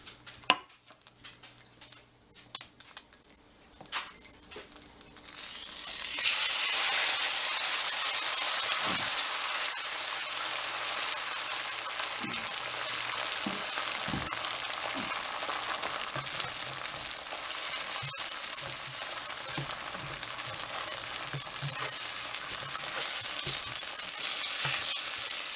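Shrimp egg foo young batter hitting hot oil in a pan, starting with a few light taps and clicks. After about five seconds it breaks into a loud, dense, steady sizzle that carries on with no talking.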